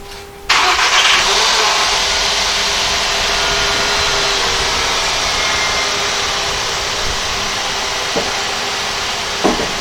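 A Volkswagen Golf Alltrack starts up in a garage, a sharp crank at half a second settling into a steady, loud idle that hums on as the car is backed out, with a couple of faint knocks near the end.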